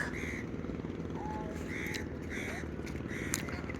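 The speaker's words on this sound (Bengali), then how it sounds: "কিছু কাক," Crows caw beside the Bakkhali river, a few harsh calls at moderate distance repeating roughly every half second to second over a steady low rumble of engines and outdoor noise.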